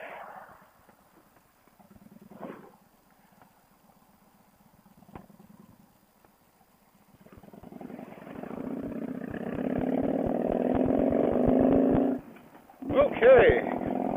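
A 2008 Victory Vegas Low motorcycle engine starts after a quiet stretch with faint voice, then runs with a loud, rough, rapid pulsing idle, briefly dropping off before surging again near the end.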